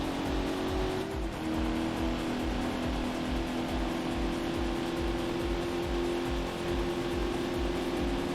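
A Corvette race car engine from the PC racing game Corvette: 50th Anniversary drones loudly and steadily, its pitch shifting once early on and then holding a sustained high whine with no talking.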